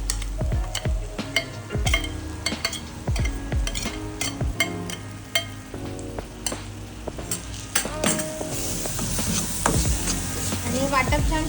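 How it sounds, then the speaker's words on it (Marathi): Ground masala paste frying in oil for a Malvani fresh cashew curry, a constant close sizzle under frequent spoon scrapes and clinks against the pan, growing denser toward the end. "आणि वाटप छान शिजवून घेऊयात तेल सुटेपर्यंत."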